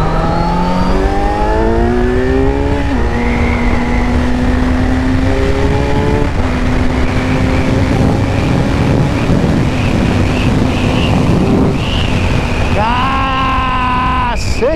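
A Kawasaki Z900 motorcycle with an Atalla 4x1 stainless steel exhaust revs hard on a test ride, climbing through gears with loud rising engine sweeps and shifts, while wind buffets the microphone and a rider's voice comes and goes.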